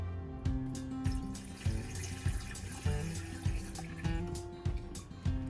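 Liquid pours and splashes into a camper van's bathroom sink and toilet, a steady running stream with repeated low thumps and knocks throughout, fairly loud and close.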